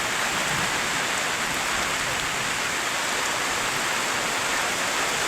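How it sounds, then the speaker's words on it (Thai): Steady, dense rain pours down evenly over a rubber plantation, a constant hiss of drops hitting surfaces with no pauses or voices. "แต่ว่าก็ติดฝนเล่นงานเนาะฝนตก"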